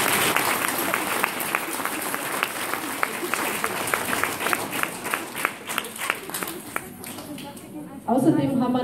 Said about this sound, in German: da darf's klatschen